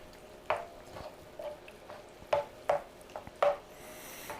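A spoon stirs a French onion soup mixture in a pot, giving soft scraping and sloshing strokes at an uneven rhythm, fairly quiet and close with no talk.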